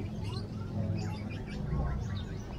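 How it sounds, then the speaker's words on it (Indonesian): Busy Jatinegara bird market with many small birds chirping and tweeting continuously, layered over a dense, noisy crowd murmur and market bustle. "rame coy, pasar burungnya nih."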